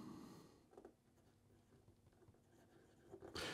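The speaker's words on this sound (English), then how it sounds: "here we go with the writing sample for the Pineider" Pineider Avatar UR Black Edition fountain pen nib writing on paper, soft faint scratchy strokes in short bursts, close and quiet with a slight rustle at the end.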